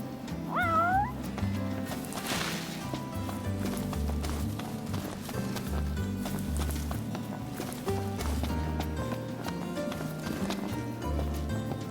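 A cat in the video game Final Fantasy XV gives one short, rising meow near the start, heard over continuous game music with rhythmic clip-clop hoofbeats.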